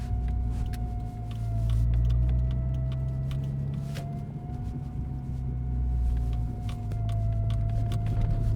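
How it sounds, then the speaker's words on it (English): A thin, steady high whine from the fuel pump of a GT4 car with a suspected fuel-starvation fault, sitting above a low engine rumble that swells and eases as the car drives through streets. "You guys got to be able to hear that fuel pump."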